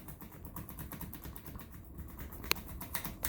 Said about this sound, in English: See, this is a light switch. You're going to hear it clicking.